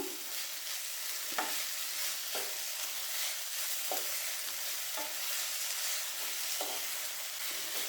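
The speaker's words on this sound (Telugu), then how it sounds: "ఇప్పుడు అదే ప్యాన్లో చింత చిగురు వేసుకొని రెండు మూడు నిమిషాలు కలుపుకుంటూ వేయించుకుందాం" Tender tamarind leaves stir-fried in a pan for a chutney, a steady broadband sizzle with sharp spatula scrapes and clicks every second or so, close and even throughout, no voices.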